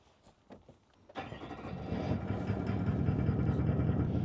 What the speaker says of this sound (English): So to get started, obviously we'll turn the car on.